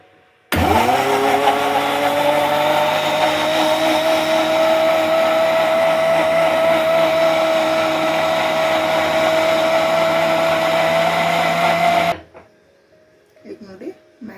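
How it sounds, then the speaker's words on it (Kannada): A kitchen mixer grinder blends mango pieces, sugar and milk into a milkshake, starting abruptly with a loud, steady high-pitched whine that runs about twelve seconds before cutting off, followed by a few soft clinks. "ಬನ್ನಿ ಇದನ್ನು ಮಿಕ್ಸಿ ಮಾಡೋದ."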